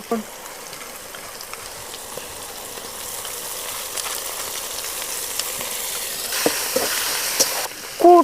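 Garlic and ginger paste frying in hot oil with softened onions and green chilli for chicken biriyani, a steady soft sizzle and crackle running throughout, with a few brief clinks and stirring knocks near the end.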